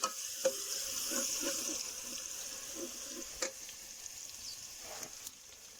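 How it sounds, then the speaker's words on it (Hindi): Garlic is added to light-browned onions in a hot pan for a tempering, giving soft steady sizzling and crackling with a few sharp clinks of a spoon against the cookware, fairly quiet and close. "प्याज हमारा लाइट ब्राउन हो गया जी माशाल्लाह। अब इसमें लहसुन शामिल कर देंगे।"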